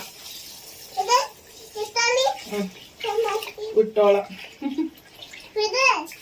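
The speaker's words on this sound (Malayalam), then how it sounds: "ഇതാ അരിയൊക്കെ ഒന്ന് കഴുകിയിട്ടേണേ" Tap water runs steadily into a pot as rice is washed in a home kitchen, partly buried under a child's chatter and other voices talking throughout.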